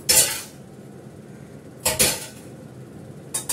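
Dishes and cutlery clink and clatter in three short bursts with quiet gaps between them as rice is served onto a plate at home; no one talks.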